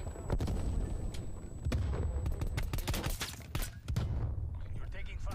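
Video game gunfire crackles in rapid bursts and single sharp shots, with booming impacts, fairly loud and continuous throughout the clip.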